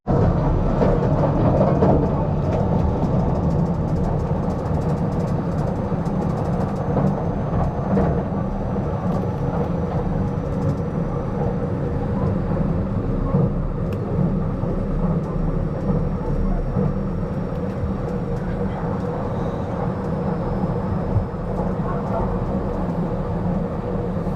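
A continuous low rumble of a train interior while riding in Japan, steady and loud throughout with constant rolling noise and no clear talk.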